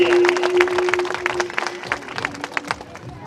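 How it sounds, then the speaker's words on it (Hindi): Wedding guests in a Chhattisgarh village clapping for the winners of a wedding game, a moderate burst of crowd applause with a sustained tone beneath it, fading somewhat toward the end. "जोरदार ताली बजा देंगे इनके लिए"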